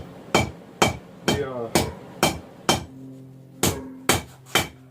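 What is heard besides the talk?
hammer forging steel farrier rasp into knife taper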